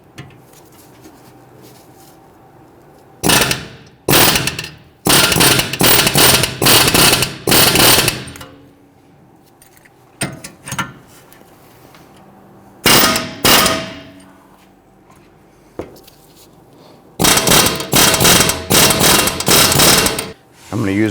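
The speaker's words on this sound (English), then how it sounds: "I'm going to use my air hammer here, and I'm going to go ahead and kind of blip these tabs here" Air hammer rattling in bursts against the tabs of a rear wheel hub on a 2010-2019 Ford Taurus during brake dust shield replacement, loud close hammering in several multi-second blasts separated by quieter pauses.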